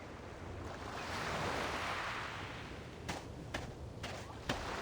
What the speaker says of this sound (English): Waves roll in.